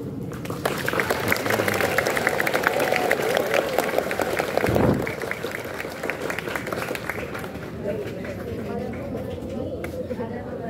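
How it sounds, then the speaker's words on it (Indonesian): Students at a Monday flag ceremony in an Indonesian junior high school applaud together, a dense burst of clapping that peaks, then thins into scattered claps and murmuring voices. "kita tepuk tangan untuk semua"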